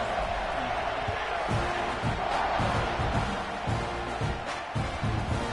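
Stadium crowd at a Texas A&M football game as kickoff nears, a loud, steady roar of cheering with rhythmic thumps and shouts, heard from within the stands.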